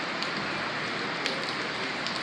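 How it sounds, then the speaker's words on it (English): Very heavy rain pouring down on West End in Nashville, Tennessee, late at night: a dense, continuous hiss of water hitting surfaces, with occasional louder drops and splashes. "And it's been raining so heavy on steady downpour."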